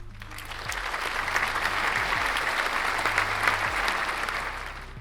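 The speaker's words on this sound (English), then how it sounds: "Round of applause for you" Crowd applause, dense and evenly sustained, with many hands clapping at once at a moderate distance and a faint low tone running beneath it throughout.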